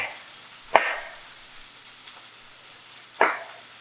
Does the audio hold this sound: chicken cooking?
yes